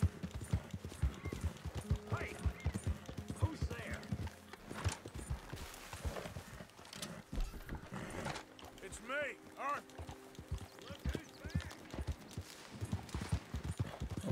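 Steady clip-clop of horse hooves trotting in Red Dead Redemption 2, layered with game ambience and a person talking over it throughout.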